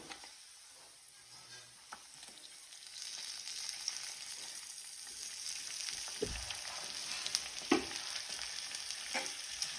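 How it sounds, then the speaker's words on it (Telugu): Chicken fries in oil with a continuous soft sizzle that grows slightly louder partway through, with occasional stirring clinks and scrapes close by; no talking. "చికెన్ మంచిగా దీంట్లో ఫ్రై చేసుకున్నాం"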